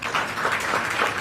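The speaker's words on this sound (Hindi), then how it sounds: "तालियां बजा दें प्लीज।" Brief steady applause from the audience at a state award ceremony honouring UPSC and IIT-JEE qualifiers, a dense crowd of clapping hands filling the short moment.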